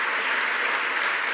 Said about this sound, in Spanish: ¿Cuántos le dan un aplauso fuertísimo al Señor por todo lo que va a hacer?